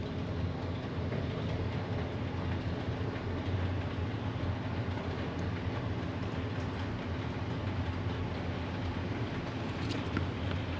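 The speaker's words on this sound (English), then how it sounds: "I got a train running." A model train runs in the background of a workbench where a Roco BR18 steam locomotive is being serviced, a continuous low rumble with faint rail clatter, steady and fairly quiet throughout with no one talking.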